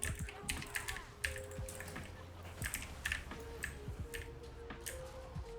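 Rapid computer keyboard typing, close and fairly loud, a steady run of sharp clicking keystrokes with a low hum beneath, no talk.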